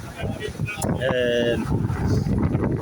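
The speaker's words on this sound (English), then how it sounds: "it is windy today" Steady wind on a cold, wet day at an outdoor protest rumbles and buffets the microphone, a loud low roar running throughout with a brief higher tone in the middle.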